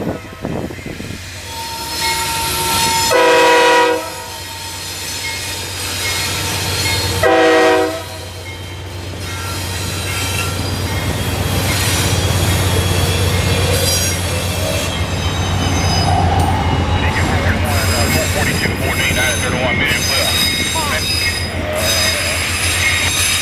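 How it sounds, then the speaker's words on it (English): CSX freight train Q452, led by locomotive CSXT 9031, passes in Plant City, Central Florida, sounding two loud horn blasts over a deep engine rumble, then rolling by with rising wheel squeal and a steady roar. "Leading the next train, Q452, was CSXT 9031."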